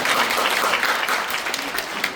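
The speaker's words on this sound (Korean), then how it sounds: "박수 한번 해주시죠." An audience applauds at a political lecture, a thick, even wash of clapping, loud and continuous for the whole stretch with no voices.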